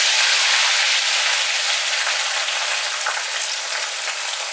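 Bitter gourd fries in hot oil with a steady, bright sizzle and fine crackling that stays loud and even throughout, with no talk over it.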